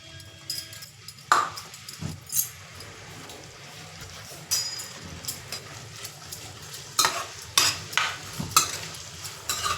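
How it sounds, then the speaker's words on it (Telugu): Onions and green chillies fry in hot oil in a pan for village-style country chicken curry, a soft sizzle under repeated spoon scrapes and metallic clinks against the pan, close by, with no talk. "ఆయిల్ వేడెక్కిన తర్వాత ఉల్లిపాయలు పచ్చిమిరపకాయలు వేస్తున్నాను."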